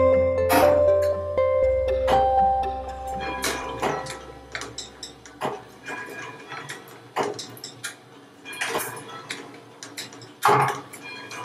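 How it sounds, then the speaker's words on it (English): Wheels, weights, levers, gears and a swinging pendulum of an old manor clock work in a quiet clock room, giving irregular mechanical clicks and ratchet-like knocks with faint ringing tones and a low hum, no talking. "space showcasing the clock's working mechanism of wheels and weights, levers and gears, and swinging pendulum"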